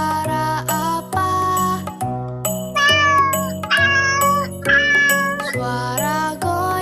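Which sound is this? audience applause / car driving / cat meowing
cat meowing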